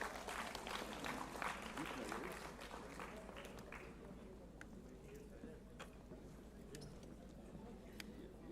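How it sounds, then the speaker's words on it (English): An audience at a conference session gives a round of applause, a dense but fairly distant clapping that fades into sparse scattered claps amid murmuring voices. "Please give a huge round of applause."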